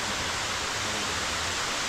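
Inside a cave, a waterfall pours as a steady, dense roar of rushing water that fills the space continuously, with no voices over it.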